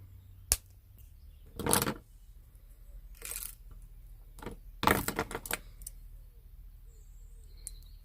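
Pliers or wire cutters snipping wire for a wire-wrap pendant: a handful of sharp, close metallic clicks and snaps spaced across a quiet background, with a short cluster of them near the middle and no talk.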